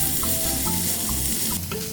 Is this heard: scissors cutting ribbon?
no